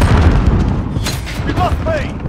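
A grenade explosion in a tactical shooter video game goes off as a loud booming burst amid steady gunfire and battle noise, with a voice talking over it.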